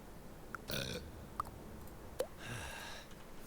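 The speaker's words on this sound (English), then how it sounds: "have a burp." A cartoonish burp from a patient in the hospital management game Two Point Hospital, a short belch followed later by a second fizzy burst, moderately loud with small clicks between.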